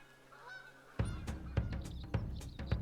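Geese honk repeatedly in theHunter: Call of the Wild, a series of loud, close calls arriving in a regular rhythm after a quiet, hushed outdoor start.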